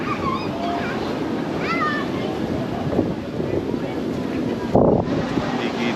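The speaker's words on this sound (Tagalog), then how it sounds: "Grabe yung hangin guys." Strong cold wind gusts across the open hilltop of People's Park in the Sky in Tagaytay, a steady loud roar buffeting the microphone, with voices talking over it throughout and a sharper gust near the end.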